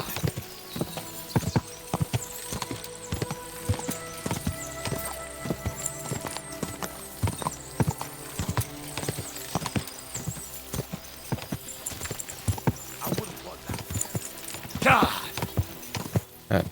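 Horse hooves clip-clop in a steady rhythm while riding in Kingdom Come: Deliverance II, with a brief whinny near the end and background game music.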